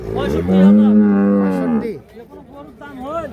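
A Holstein Friesian cow at a cattle sale lets out one long, loud, close moo that tails off, followed by quieter voices talking nearby.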